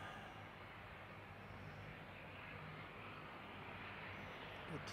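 An Air New Zealand ATR turboprop from Rotorua drones steadily at a distance, a broad, low engine rumble holding even throughout with no voices over it.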